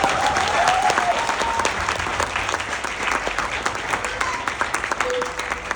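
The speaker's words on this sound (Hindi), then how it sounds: "तालियां" An audience applauds at a master class with actor and singer Raghubir Yadav, a dense, steady wash of clapping that stays loud and close for several seconds.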